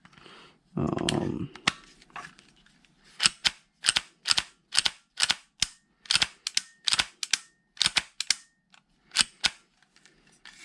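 A TAPP Hybrid AAP-01 airsoft pistol, unloaded and under function testing, cycles its action over and over. After a short rustling burst come about fifteen sharp, close, evenly spaced mechanical clacks.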